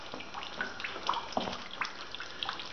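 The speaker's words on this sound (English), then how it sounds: "The water's just pouring in." Water pours steadily through a crack on a farm, making a continuous hissing, splashing rush with small bubbling spikes, close and even throughout with no talk.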